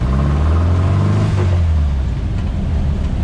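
A car engine idling after cleaning and tuning of its Kadron carburetors, a close, loud, steady low rumble with a slight rev that eases back down; no talking.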